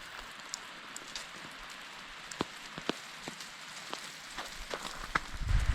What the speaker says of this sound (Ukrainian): О, почався дощик.